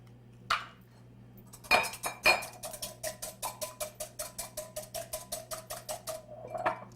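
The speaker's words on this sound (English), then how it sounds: "we're going to take 1 egg, and we'll lightly beat the egg" An egg being lightly beaten in a bowl with a fork or whisk, a few clinks followed by a steady run of quick, even metallic taps against the bowl, close and clear, no talking.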